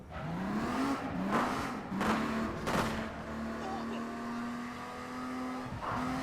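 A car driven in the video game APB, its engine revving and rising in pitch through several gear shifts, with short bursts of noise and a steady engine drone toward the end.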